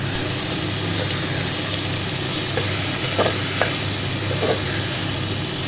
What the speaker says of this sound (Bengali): এবার আমি এর মধ্যে টমেটো কুচি দিয়ে দেবো।